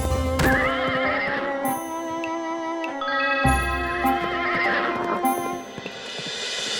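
A horse neighs loudly twice in an animated Hindi folk tale about racing on horseback to reach the king, each whinny a long, wavering, high cry over light background music, with no talk.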